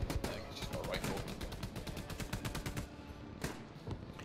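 Rapid automatic gunfire in the World War II shooter Hell Let Loose, heard as dense bursts of repeated shots that fade after a few seconds, with a single louder crack near the end and voices talking underneath.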